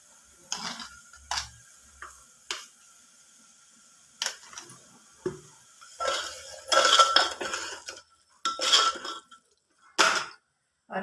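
A metal spoon stirring spices and salt in a pressure cooker for potato, pea and tomato curry, making intermittent clinks, scrapes and clanks against the pot, close and with no talk.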